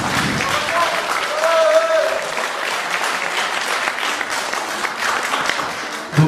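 Concert audience at a beatbox show claps in a strong continuous burst, with a few cheers and shouts rising from the crowd, before the applause drops off abruptly at the end.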